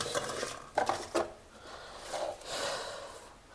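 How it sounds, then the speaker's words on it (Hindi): A watermelon being cut with a knife, giving a few quiet wet crunching and scraping strokes with breathy sounds between them. The sounds are close, soft and uneven, and no one speaks. "मेरे प्यारे दोस्तों, अब हम कट करने वाले हैं अपना वाटरमेलन"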